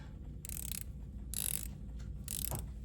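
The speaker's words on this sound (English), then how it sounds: "So I will give you the bezel action quick on this." A Breitling 36mm watch bezel is turned in short bursts, giving three quick runs of fine ratcheting clicks, close and quiet.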